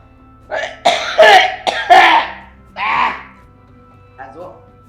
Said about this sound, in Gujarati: આ જો આ ખાંસી બહુ થઈ ગઈ છે.